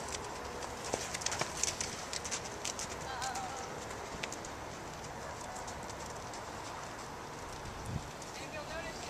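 Horse trotting, hooves clip-clopping in a faint, irregular rhythm at a distance amid outdoor background noise, with occasional bird coos.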